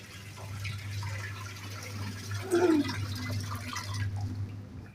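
Water runs steadily into a tank from a submersible pump, with a low pump hum underneath, a continuous filling gush that cuts off near the end.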